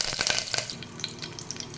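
Crackling and popping of curry leaves frying in hot oil for a yam curry, a busy fizzing with scattered sharp pops, close up and moderately quiet.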